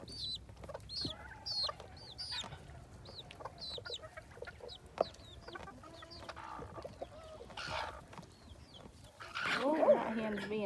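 Bantam game hens and chicks clucking and cheeping in a farm coop, with soft repeated clucks and high chick peeps throughout, a louder flurry of squawking near the end, and someone talking over it.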